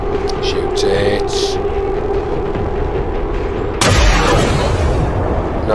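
Naval gunfire in a ship-battle video game: a heavy booming shot bursts in near the end over a constant dense roar of game noise, with brief crackling pops early on.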